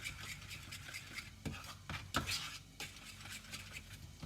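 Almond flour bread batter being mixed by hand in a bowl, a soft irregular scraping and swishing with occasional light clinks of the utensil, close and quiet, no voices.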